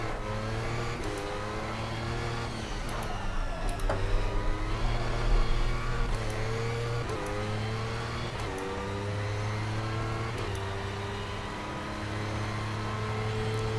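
High-revving LMP prototype race car engine from Project Cars at the Nordschleife, a steady loud in-car drone that climbs in pitch and drops sharply at each gear change, repeating through the run, with no talk.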